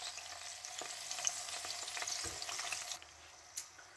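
Tomato slices frying in oil over very low heat, giving a steady, moderate sizzle with faint crackles and a couple of brief clicks, with no talk.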